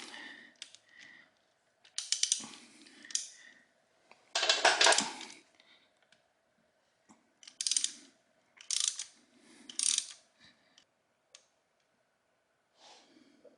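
A ratchet turns a 6 mm bolt on an Aprilia Tuono V4 motorcycle, sounding as close, brisk bursts of clicking separated by short pauses, with one longer, louder run in the middle.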